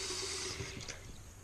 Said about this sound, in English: I'm gonna get my water ready with warm water